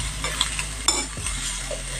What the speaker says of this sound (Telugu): క్యారెట్ కొంచెం తురుము దానిలో వేగిస్తున్నాను